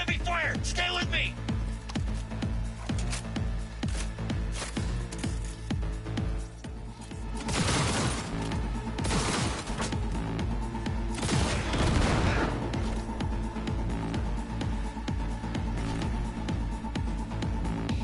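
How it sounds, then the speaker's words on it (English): Heavy gunfire in the video game Cyberpunk 2077, dense and continuous under a constant music bed, with louder bursts around the middle and a voice calling out over it. "Under heavy fire!"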